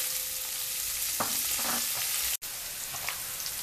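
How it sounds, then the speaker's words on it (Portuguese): Bacon and calabresa sausage frying in a pan, a loud, dense, continuous hiss of sizzling fat with faint crackles and a brief dropout partway through, close and without talk. "E vamos fritar isso aqui bem, deixar ela bem fritinha."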